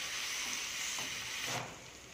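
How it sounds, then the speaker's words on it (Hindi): Ginger garlic paste frying in a pan for a drumstick curry, a bright continuous sizzle with a brief stirring scrape before it eases slightly, close up with no voices. "और ये है अदरक और लहसुन का पेस्ट, हम इसे भी डाल कर भूनेंगे।"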